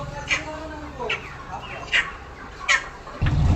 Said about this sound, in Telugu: మేము కోడి అయితే తీసుకున్నాం, ఈ కోడియే.